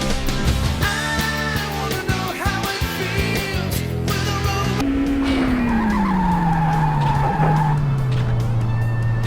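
Racing cars in the Initial D video game squeal their tires through a drift over a loud, steady engine roar. A long rising-then-falling screech dominates the second half, with no talk.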